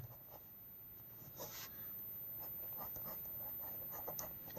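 Pen or chalk writing during a class 10 maths lesson: soft, close scratching strokes in short bursts over a steady background hiss, faint and alone.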